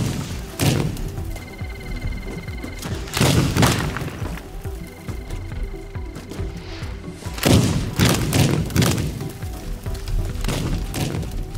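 Rockets firing in a robot combat video game: heavy, booming blasts come in several loud bursts, each a cluster of thuds that rings briefly, with rumbling game noise filling the gaps.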